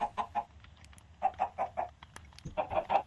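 Chickens clucking in a video game farm, several short bursts of mid-pitched clucks arriving in three clustered groups with brief gaps between them, close and fairly quiet with no voices.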